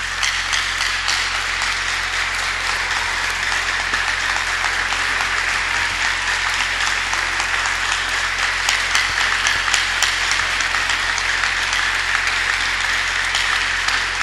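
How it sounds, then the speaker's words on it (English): A church congregation claps steadily and loudly, a continuous dense patter of many hands that holds evenly for the whole stretch. "If you clap very well, I'll tell you why I want you to clap."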